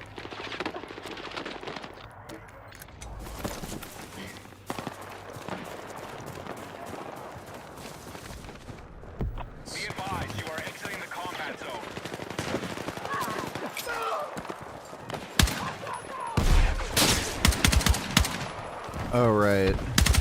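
Video-game gunfire crackles in rapid automatic bursts and scattered single shots, building louder toward the end, mixed with other game noise and occasional voices.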